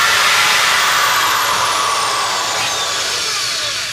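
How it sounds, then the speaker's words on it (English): A loud, steady electric motor whines continuously, a power tool running close by with its pitch drifting slightly downward. "you always, of course, have to make sure you have your drill with you"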